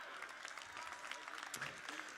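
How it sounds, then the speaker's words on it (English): Audience applause at a conference, a steady wash of clapping hands throughout, moderately loud with no distinct voices. "You can clap all day because I agree with you."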